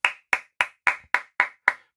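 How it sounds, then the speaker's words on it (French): Seven crisp hand claps ring out at a steady even pace, close and dry, each a single sharp slap with silence between. "suivie de mes applaudissements"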